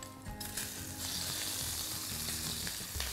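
Peeled shrimp and bird's eye chili sizzle steadily in hot sesame oil, a close, continuous frying crackle with a few faint clinks of stirring, no voices.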